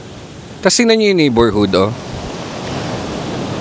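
Surf rolls steadily onto the beach at Indira Beach House in Botolan, Zambales, in the early morning, a constant broadband wash under a short burst of nearby talk.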